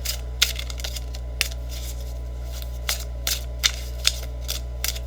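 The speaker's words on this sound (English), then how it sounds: "I'm adjusting to shuffling them." A large Tarot of Dreams deck, bigger than standard cards, is shuffled by hand: irregular sharp close-up snaps and riffles over a steady low electrical hum.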